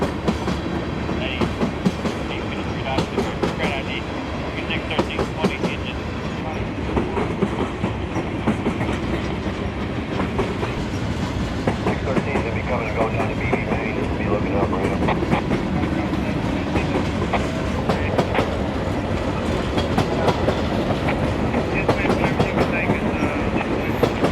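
A heavy diesel freight train led by SD40-2, SD50-2 and GP39-2 locomotives rumbles past in Florida for a long stretch, wheels clacking steadily over rail joints, close and continuous, with engine drone underneath.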